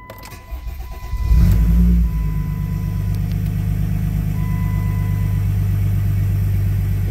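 A Jeep Commander's OM642 diesel engine cranks and fires after sitting unused for about six weeks, with a loud rev just after starting before it settles into a steady, strong diesel idle rumble with no talking.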